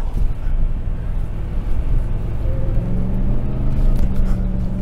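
RAM TRX pickup truck driving off-road on a dusty short course, its engine a steady low rumble with wind buffeting the microphone, growing slightly louder toward the end.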